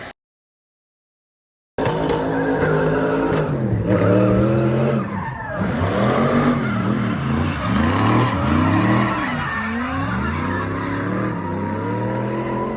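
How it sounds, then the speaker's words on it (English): A drift car spins out on the inner clipping point during a competition battle in South Africa, its engine roaring loud and sustained while the tires squeal and skid continuously, with harsh, wavering pitch. "Right here we had Julian unfortunately spin out on the inner clip over there"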